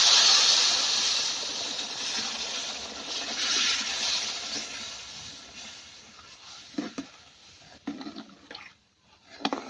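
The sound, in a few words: hot water poured into roasted semolina and gram flour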